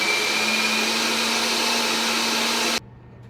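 An electric meat grinder works through meat seasoned with salt, a loud, steady motorized whir with a constant hum that cuts off abruptly near the end, leaving only faint room noise.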